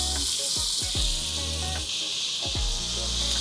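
Sliced onions fry in a pot with cardamom and cloves for a tandoori potato biryani, a steady close sizzle under background music with falling tonal sweeps, no speech.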